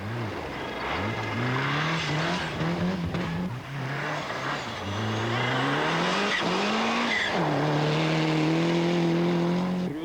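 A Mazda rally car at a 1994 Norwegian rally on forest roads revs hard through repeated gear changes and accelerations, its engine note rising and falling, with loud gravel and tire noise up close.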